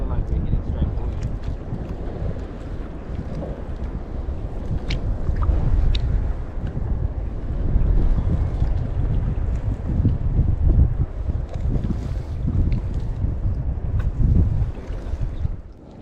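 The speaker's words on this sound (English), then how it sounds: "Small breeze behind us." A breeze blows across a small sailing kayak on open water as a steady, fluctuating rush of wind against the microphone, with water sounds beneath and a few faint voices.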